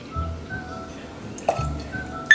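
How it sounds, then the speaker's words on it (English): A 1/4 measuring cup scoops water out of a jar, giving soft liquid sloshes and small glassy clinks, including a sharper clink midway and another at the very end, in a quiet room. "This is a 1/4 cup, and you can just kind of scoop out some of the water"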